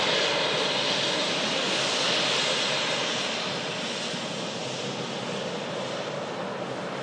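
An Eastern airliner flying for KLM from Amsterdam roars steadily as it arrives, a loud broadband jet engine rush that eases slightly toward the end, with no talk.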